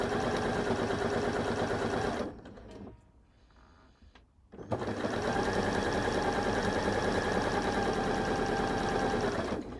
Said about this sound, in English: I'm going to sew all the way down just picking that fabric up if it's shifted a bit